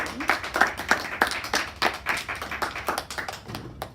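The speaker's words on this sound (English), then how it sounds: "So let's give Mary a round of applause." A small audience at a public speaking school claps for a speaker, a scattered round of individual hand claps with uneven rhythm, moderately close, with faint voices now and then.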